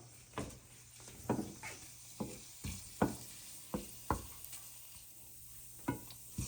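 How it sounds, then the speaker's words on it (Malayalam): Fenugreek seeds and dried chillies frying in a pan as a base for pepper coriander mutton soup, giving a steady soft sizzle broken by repeated sharp stirring scrapes and taps at close range. "അപ്പോൾ ഉലുവ മൂത്തു, നമുക്ക് ഈ മുളക് ഇടാം."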